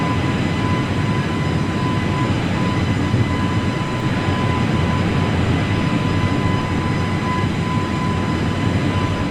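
An Airbus A320neo climbing in Microsoft Flight Simulator gives a steady, unbroken engine roar with a faint constant whine on top, even in loudness throughout.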